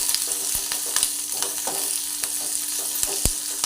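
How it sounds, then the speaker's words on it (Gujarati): Green chilies and curry leaf water fry in hot oil with a crackling sizzle, dotted with sharp pops and spoon scrapes as the pan is stirred, close and steady. "લીલા મરચાંને સરખી રીતે સાંતળી લેવાના છે."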